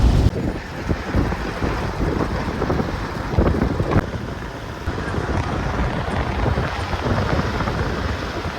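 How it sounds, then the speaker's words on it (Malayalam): Wind blowing near a dam on a hilltop, a steady rough roar with gusty buffeting against the microphone, loud and continuous throughout with no voices. "അപ്പോൾ ഇപ്പോൾ മനസ്സിലാവും കാറ്റിൻ്റെ സൗണ്ട് ഉണ്ടാവും"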